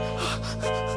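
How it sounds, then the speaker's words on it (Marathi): A performer in a comedy sketch snores with a steady buzzing drone like a bumblebee, one sustained, close, fairly quiet tone with a breathy snort at the start. "घोरतोय तो घोरतोय भुंग्याचा आवाज काढतो घोरताना"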